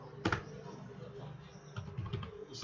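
Computer keyboard typing, HTML and CSS code being entered, heard as a short burst of soft, close keystrokes with a few louder clicks at the start and near the end, no voice over them.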